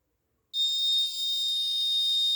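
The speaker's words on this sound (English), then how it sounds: "obstacle detection, alarm on." A piercing electronic buzzer on an Arduino assistive blind stick, triggered by obstacle detection, switches on abruptly and holds a steady, loud continuous tone with no pauses or talking.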